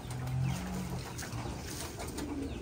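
Pigeons coo in low, soft repeated phrases on a farm where the birds are bathed and left to sun themselves, a steady murmur of rustling farm background sitting underneath.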